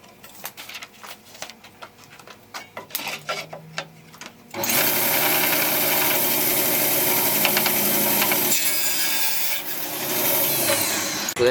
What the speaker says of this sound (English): Okay, so I'm going to cut the top of the table first.